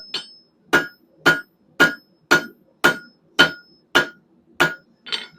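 Nine evenly spaced hammer blows ring out on hot mild steel on an anvil, each a sharp metallic clang with a brief ring, struck in a steady rhythm.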